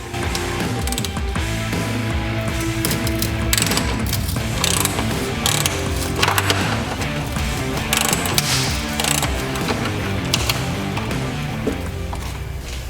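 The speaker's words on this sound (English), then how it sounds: "we can now remove and probably break our other two 10mm bolts here" A ratchet works loose 10mm bolts on a 2012 Subaru Forester's AC components, clicking rapidly and steadily up close over a constant mechanical din with no talking.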